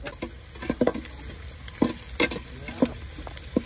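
Dry red chillies crackle in hot tempering oil in an outdoor village kitchen, soft sizzling broken by a scattering of sharper pops and spoon stirs, moderately quiet and close.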